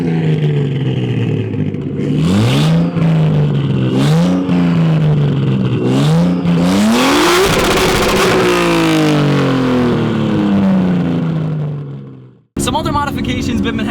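A 1989 Nissan Skyline R32 GTS-T with a front-mount intercooler, cold air intake and a custom 3-inch exhaust into twin 4-inch blast pipes revs loudly in several rising bursts, then climbs into a long pull and fades before cutting off abruptly.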